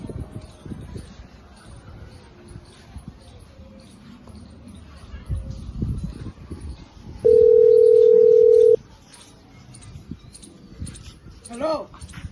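A steady telephone dial tone sounds loud and close for about a second and a half while a man makes a phone call from a building site, with speech before and after it and faint birds and background noise.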